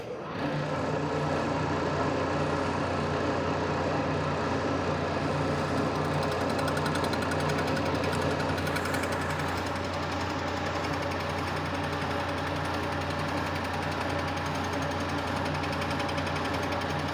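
Boring machine taking a fine cut in the cast iron of a Rockwell 16-inch radial arm saw part, a loud continuous mechanical drone with a steady rattling hum throughout, no voices.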